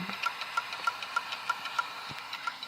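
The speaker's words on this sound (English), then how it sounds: "I have a computer right over there that is making that hard drive clicking sound." Failing hard disk drive in a Dell Inspiron 530s desktop computer clicking in a steady, regular rhythm, roughly three clicks per second, moderately close over a faint electronic hum, with no talking.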